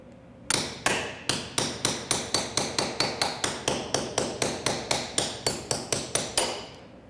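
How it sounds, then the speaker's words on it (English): Sharp metallic hammer blows cut through hard torrone nougat in a steady rhythm, about twenty hard taps in quick succession, close and loud with no voices. "I got to cut it with a hammer."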